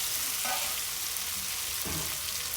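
Eggplant strips drop into a pan of softened onion and tomato for a brinjal sambar, with steady low sizzling and frying throughout and a couple of soft stirring scrapes, no talking.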